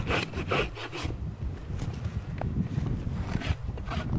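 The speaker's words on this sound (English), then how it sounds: "We're going to take our rasp, this half, this half." A farrier's rasp files a horse's hoof in quick, irregular rough strokes, close and fairly quiet, with no talking.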